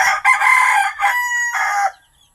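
A rooster crows loudly and close up, a long, strained cock-a-doodle-doo in several drawn-out segments, then silence.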